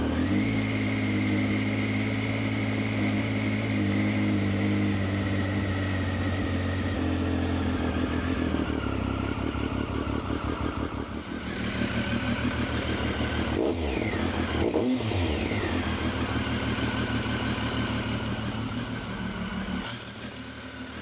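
A Triumph motorcycle fitted with a carbon-sleeve Triumph exhaust runs at a loud, steady idle throughout, its rumble holding even with a slight dip and brief mechanical clatter midway, close to the microphone and with no talking.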